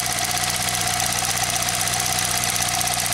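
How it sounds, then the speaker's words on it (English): A Saab 9-3 2.0t engine idles steadily up close, with a fast, regular ticking or knocking running through its drone. "Oh, that's what the clicking noise is."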